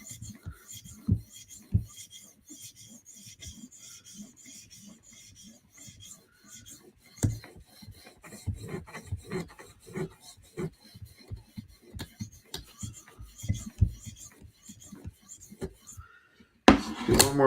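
A blade scrapes in short rasping strokes across a sharpening surface to strip off the burr, quiet, close and uneven in rhythm, ending with a louder clatter, with talk mixed in.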